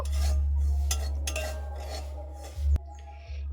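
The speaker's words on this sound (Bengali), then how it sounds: "সুজিটা এক থেকে দেড় মিনিট ভালো করে একটু ভেজে নেব যাতে সুজির কাঁচা গন্ধ চলে যায়" Semolina being dry-roasted in a pan, with a spoon scraping and rubbing against the pan in short strokes over a low hum, then a sharp clank and a near-silent tail.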